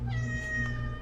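A cat meows close by, a single drawn-out, tonal call lasting about a second over a steady low background hum.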